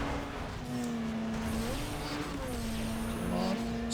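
A race car engine in Need for Speed Underground 2 drones steadily with small pitch shifts as the car is driven, faint and continuous, with brief higher whooshes.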